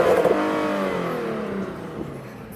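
A tuned Infiniti Q60S engine revs hard toward the red line, then the pitch drops as the revs fall away into exhaust burbles, loud and close.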